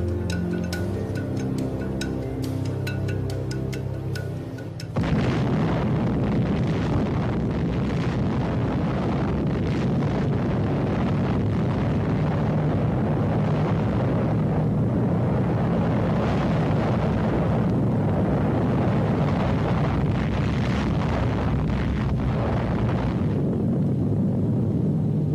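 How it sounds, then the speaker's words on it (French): Gadget plutonium implosion bomb detonating at the Manhattan Project's first nuclear test: a sudden loud broadband blast bursts in after a quieter musical opening, then a sustained heavy rumbling roar with crackling texture continues for about twenty seconds. "On l'appelle le gadget, une bombe à implosion contenant 6 kilos de plutonium."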